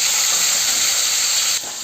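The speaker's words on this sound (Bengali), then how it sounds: "আমি তো মাছগুলোকে বেশি কড়া করে ভাজবো না, হালকা করে ভেজে নেবো।" Rohu fish pieces frying lightly in hot oil in a Bengali kitchen, a steady loud sizzle and hiss that drops slightly in level near the end.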